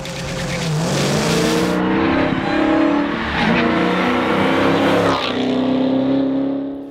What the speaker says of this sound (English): retaining the style and sound of a true tire-shredding V8, red-blooded, all-American ass-kicking machine